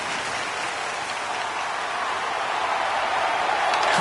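A steady, dense crowd roar fills an NHL 26 video game hockey arena late in a tied period, loud and continuous throughout with no break or speech.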